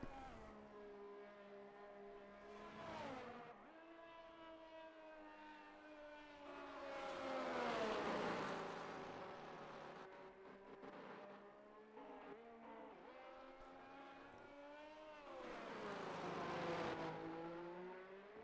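A race car engine screams through a lap in a racing video game, revving high and dropping through gear changes with rising and falling pitch, continuous and prominent from the onboard view.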